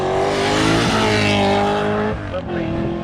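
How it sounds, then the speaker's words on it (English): A V8 Forenza race car of 600 horsepower with a Can-Am engine thunders up the Shelsley Walsh hillclimb, its loud, close engine roar holding high before dipping sharply as the driver lifts, then building again. "Wait for Mick Strafford in that Forenza, that V8 600 horsepower Forenza."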